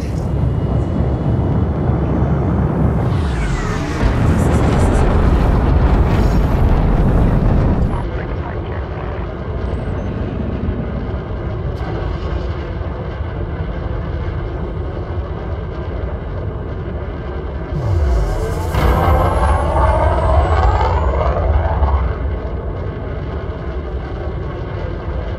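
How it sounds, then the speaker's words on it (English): Spaceship launch in the video game Elite Dangerous, with a loud rumbling thruster roar that builds, eases into a steady hum, then surges again alongside mechanical whooshes as the landing gear retracts. "Launcher authorized. Landing gear retracted."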